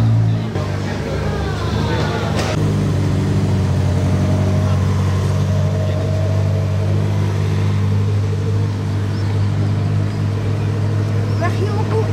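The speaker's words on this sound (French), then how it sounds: "il y a une Ferrari Enzo là, juste à gauche qui arrive en même temps" A Ferrari Enzo arriving outside a hotel, a low, steady engine rumble running throughout while voices talk over it.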